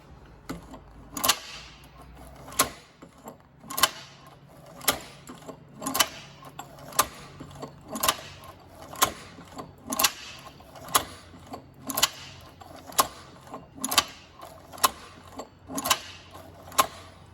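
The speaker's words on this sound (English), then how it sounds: "It is harder work sewing through the thicker material, but as you can see, the needle doesn't really have any problem going through there." A Cowboy Outlaw sewing machine stitches slowly through thick material. Sharp mechanical clacks arrive about once a second over a faint whirring hum, close and clear.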